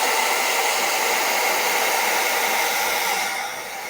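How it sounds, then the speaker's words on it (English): A hair dryer blows with a steady, loud whooshing hiss close by, dropping slightly in intensity near the end. "So I'm just using a hair dryer"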